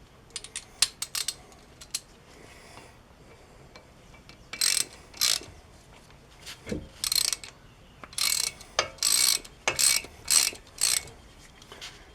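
A ratchet tightens a brake bolt on a 2014 Chevy Silverado during a brake job, with a few scattered clicks followed by repeated close bursts of rapid ratcheting.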